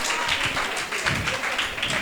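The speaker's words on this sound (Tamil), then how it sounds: "அவங்களுக்காக ஒரு கைத்தட்டல் போடுங்க" Light, scattered clapping from a church congregation at a Sunday school Christmas play, a few hands tapping unevenly at a low level in a roomy hall.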